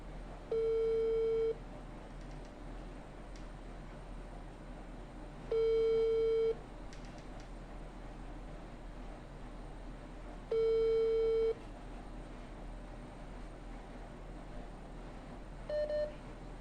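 A telephone busy tone after a dropped call pulses three times as long steady beeps spaced about five seconds apart, with a brief fourth start at the end, over a low line hiss.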